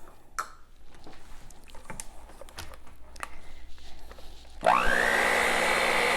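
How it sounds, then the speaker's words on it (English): A blender starts up abruptly partway through, whirring loudly and steadily as it mixes Butterfinger pie filling with softened cream cheese, after a quieter stretch of small kitchen clatter. "let's go ahead and get that blended"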